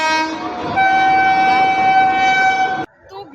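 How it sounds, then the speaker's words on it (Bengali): A train passes near a crowded spot, its horn blaring in one long sustained tone for almost three seconds, loud and close, then cutting off abruptly, with crowd murmur and rumble underneath. "ট্রেন যাচ্ছে সেই দেখো।"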